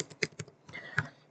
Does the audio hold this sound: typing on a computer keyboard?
yes